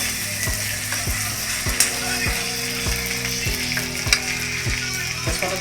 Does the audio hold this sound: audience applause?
no